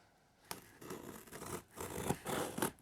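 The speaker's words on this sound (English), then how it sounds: "Okay, found a scissors. I'm gonna cut this open." Scissors cut into the cardboard box of a Delta A350-900 model plane, with a series of faint, close scratchy snips and scrapes in uneven bursts after a quiet start.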